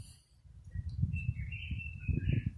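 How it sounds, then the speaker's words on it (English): A pet bird chirps and whistles in a few thin, high calls in the background while low indoor rumble and noise continue underneath. "My bird going crazy, so if you hear my bird."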